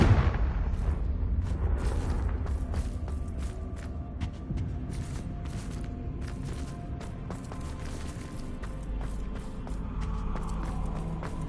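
Repeated blasting-spell explosions from Hogwarts Legacy, the Confringo fire curse, go off as booming bursts with rumbling low-end tails and crackling debris, loud and close.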